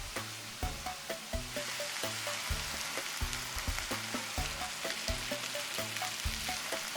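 Tomatoes sautéing in a pan for eggplant pasta alla Norma, a steady close sizzle with a regular knocking rhythm of stirring throughout, no voices.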